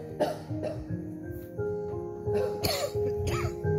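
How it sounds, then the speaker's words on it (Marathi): An older man with a mild cough coughs and clears his throat several times in short, close bursts spread over a few seconds. "मामुली खोकलाय, होईल बरा"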